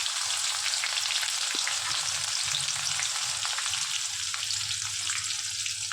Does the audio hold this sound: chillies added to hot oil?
yes